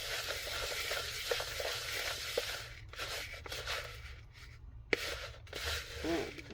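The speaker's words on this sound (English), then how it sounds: "And you stir, and you stir, and the peanut butter and the chocolate go together." A spoon stirs peanut butter and chocolate in a pan, giving a soft, continuous scraping and sizzling texture with occasional sharper clicks of utensil against the pan, fairly quiet and without speech.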